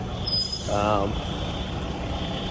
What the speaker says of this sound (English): Here comes more fire trucks.